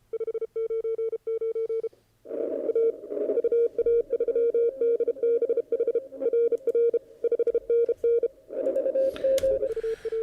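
Morse code CW signals on amateur radio, loud steady tones keyed in rapid dots and dashes, first as a short sending burst, then a brief pause and a longer continuous run of code with faint static behind it.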